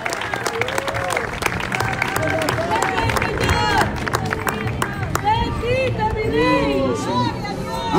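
An outdoor crowd at an evangelical street gathering in front of the government palace in Quito claps steadily in praise, a dense continuous wash of applause mixed with chatter while someone speaks loudly over it.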